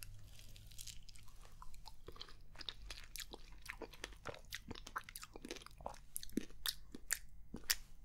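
Close, crisp chewing and biting of exotic fruit, with wet crunches and mouth sounds in an irregular rhythm, quiet and intimate with no talking.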